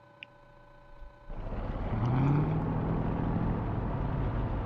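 Aircraft engine start-up in Microsoft Flight Simulator, heard after a high electric whine as a low rumble builds suddenly, then swells into a steady loud roar with a rising turbine-like tone, with no talk.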